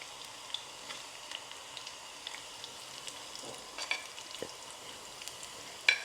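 Dried red chillies, added after onions, sizzle and crackle steadily in hot oil for a Kerala dry fish curry, with occasional stirring scrapes and small pops close by and no voices.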